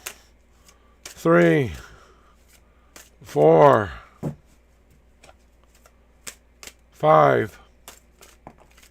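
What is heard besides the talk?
shuffling tarot cards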